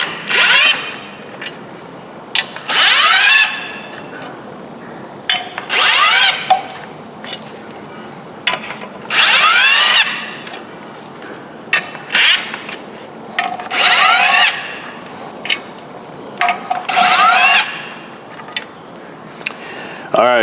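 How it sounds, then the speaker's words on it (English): An impact gun on a 2005 Honda Civic clutch replacement, run on a low setting at the pressure plate bolts: repeated short whirring bursts with rising and falling pitch, close and loud, separated by pauses. "I got the impact gun put on my hand tight setting because I want to slide this up a little bit"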